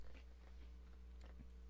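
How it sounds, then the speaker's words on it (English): Close, soft chewing of seven-layer dip, with a few moist crunchy bites and mouth noises spread over a quiet background hum; no talking. "Can you guys hear me chewing?"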